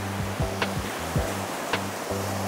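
Ocean waves break on a windy beach, several soft surf washes rising and falling over a steady low rush of water and wind, fairly close and without any talk.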